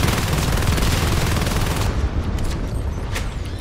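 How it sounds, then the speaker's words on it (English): Machine gun fire in the sci-fi shooter Natural Selection 2, a dense, loud, continuous burst of rapid shots that rolls on for about two seconds and then tapers into scattered fainter impacts. "It seems like the machine gun does more damage."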